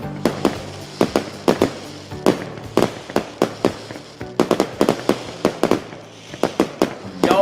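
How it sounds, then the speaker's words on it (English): Fireworks burst in irregular volleys of sharp, loud cracks and booms, some close together and some spaced apart, with crackling tails between them and no talking. "Y'all get the fireworks."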